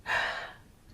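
A single forceful exhale during an abdominal exercise for a flatter stomach: one short, breathy whoosh of air, close and fairly loud, quickly fading with no talking.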